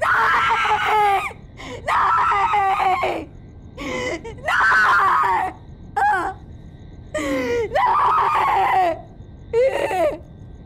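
A woman screams repeatedly in a TV crime drama, Crime Patrol Satark: loud, anguished, high-pitched cries come in about seven close bursts separated by short silences.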